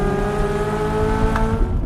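A Chevrolet Corvette Z06 V8 howls at high revs, a loud sustained engine wail that holds steady near the top of the rev range, with no talk.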